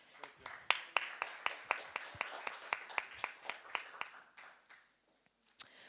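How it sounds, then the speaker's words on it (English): Audience applause for panelists walking onto the stage at a sustainability symposium: sparse, distinct claps in a steady rhythm for about four seconds, fading out, then a single late clap. "Please give them a round of applause as they come to the stage."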